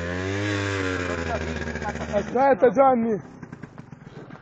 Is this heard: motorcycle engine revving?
yes